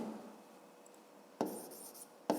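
A pen writes on paper during a fifth-grade maths exercise, a quiet scratchy stroke followed by a short pause and then two crisp bursts of pen movement, close and alone.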